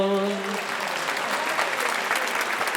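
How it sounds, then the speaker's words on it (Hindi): An audience at a poetry recital breaks into full applause that swells and holds, after a brief sung or spoken tone at the opening. "तालियां बजाओ।"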